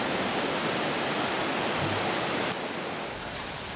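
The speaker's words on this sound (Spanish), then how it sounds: "las enormes olas que rompían contra el muro" Large ocean waves break against a seawall in San Sebastián during a February storm, a constant roaring wash of surf that drops a little in the final second.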